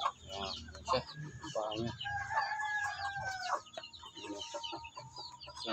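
A young Shamo Aseel stag about four months old clucks and gives a short, rough crow at close range, with people talking over and around it.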